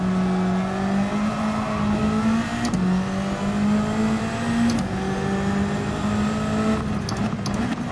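Retro race car engines in the Gran Turismo 7 racing game, a Miata among them, hold a steady loud howl with rising revs and brief dips at gear shifts, continuous throughout.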